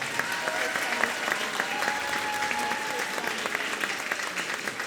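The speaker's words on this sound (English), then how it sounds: "Give her another round of applause for that." Applause from the audience at a middle school popular music concert, a dense, steady wash of clapping that fills the whole stretch, with faint voices and cheers mixed in.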